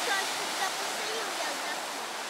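Powerful sea surf pounds the coast of Mahé in the Seychelles, a continuous broad roaring wash with people talking over it nearby.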